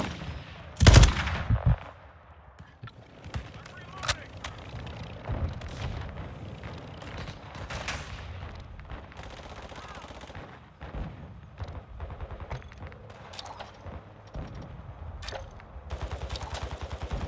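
Gunfire in Call of Duty Modern Warfare 2: one loud close shot burst near the start, followed by scattered quieter shots and bursts over continuous battle noise, with faint voice callouts at times.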